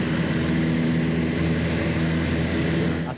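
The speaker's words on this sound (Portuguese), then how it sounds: "mais um avião levanta voo." A light propeller airplane takes off at the Aeroclube de São Paulo, its engine a loud, steady droning hum with a low buzzing tone throughout, fading slightly at the end.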